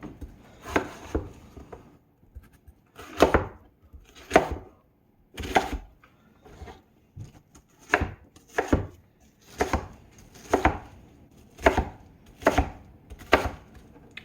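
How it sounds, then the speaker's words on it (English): Yam or sweet potato being roughly chopped with a knife on a cutting board, a series of distinct thudding chops in irregular clusters with short pauses between them. "I'm just giving this a rough chop"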